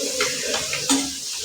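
Sliced onions sautéing in a pan give a short burst of stirring and soft sizzling, with a few scraping spoon strokes close by.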